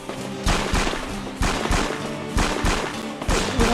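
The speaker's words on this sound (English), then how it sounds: "Who the hell's shooting?" Gunfire in a Lithtech-engine video game: four loud, sharp shots or short bursts spaced about a second apart, each with a booming low thump and a ringing tail, with no voices.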